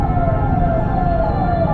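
An ambulance siren sounds loud and close in traffic, a steady wailing tone slowly sliding downward over a low engine and road rumble.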